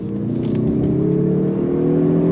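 A 2024 Mazda 3 Turbo engine revs steadily on throttle through a corner, a loud, continuous, rising drone heard up close without any talk.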